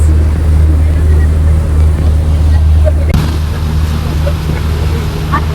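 A boat engine drones loudly and steadily at a port with a deep low hum, close by, with a sudden shift in the noise about halfway through.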